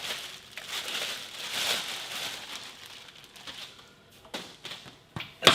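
Plastic wrapping and tape being cut away with a knife from a new Precor spinning bike, a long crinkling rustle that builds to sharper tearing and snapping near the end, close by.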